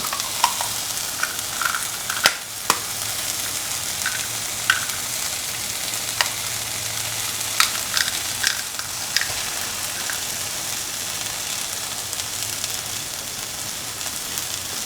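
Two eggs frying in a pan, a steady close sizzle with crackles and pops scattered over the whole stretch, no voices.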